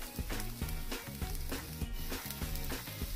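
Garlic hits a hot pan in the middle of a vegan veggie and lentil seitan breakfast scramble, giving a close, crackling sizzle with rapid irregular pops and stirring scrapes, alone without speech.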